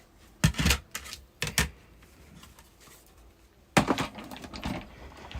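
A card is run through a cutting machine, producing bursts of rapid, close clicking and clattering in short runs separated by quiet pauses, with a longer burst near the end.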